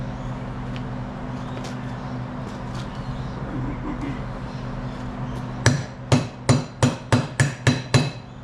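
Seven sharp, ringing hammer blows strike a steel pin into a hoe cylinder in quick succession, loud and close, following a stretch of low mechanical hum.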